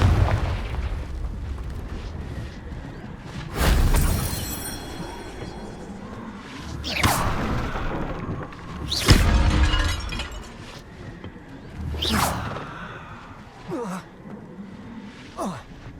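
Fiery Confringo spell blasts from the video game Hogwarts Legacy boom out in a series of loud, sharp explosive bursts, each followed by crackling, shattering debris, spaced a few seconds apart over ambient game sound.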